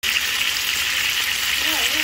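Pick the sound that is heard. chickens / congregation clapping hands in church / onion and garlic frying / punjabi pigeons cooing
onion and garlic frying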